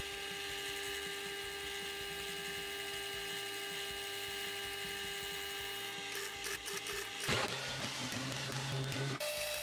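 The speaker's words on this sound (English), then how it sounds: "That requires me first to drill some holes through the middle." A power drill bores holes through the middle of an axe handle for stainless steel pins, a steady high whine running continuously, with a shift in pitch and a rougher grinding near the end as the bit bites.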